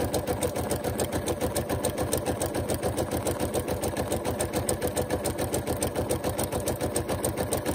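A sewing machine stitches down an appliqué piece, running at a steady fast rhythmic clatter throughout, close and continuous with no talking.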